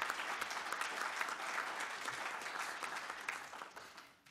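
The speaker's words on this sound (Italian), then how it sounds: "solleciterei anche un applauso al presidente" A conference audience applauds the president at a legal professions' session on artificial intelligence, with dense, steady clapping from many hands that slowly thins toward the end.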